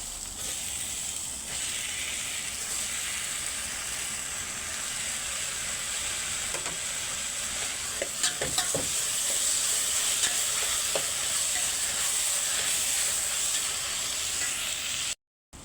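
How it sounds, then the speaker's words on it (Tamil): Tomatoes sautéing in a hot pan for a tuna fish curry give a steady, close sizzle and hiss, with a few brief crackles and stirring scrapes partway through and no talking. "தக்காளி போட்டுட்டு நல்லா வதங்கணும்"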